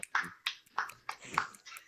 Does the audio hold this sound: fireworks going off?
no